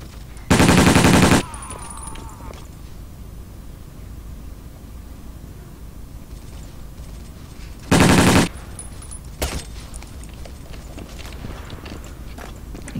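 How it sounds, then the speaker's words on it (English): Battlefield 1942 game gunfire comes in two loud, dense bursts of rapid automatic fire about seven seconds apart, plus a single sharper shot, over a low steady background hum. "Oh god, I'm getting shot at."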